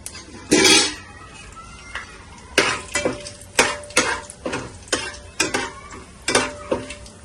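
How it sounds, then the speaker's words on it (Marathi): Whole spices crackle in hot oil as tempering for a Maharashtrian village-style chicken, heard as a run of close, loud metallic scrapes and clinks from stirring in the pot over a light sizzle. "आणि मस्तपैकी तडतडून द्यायचं."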